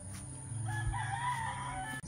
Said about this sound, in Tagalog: Chickens are up. Chickens are up.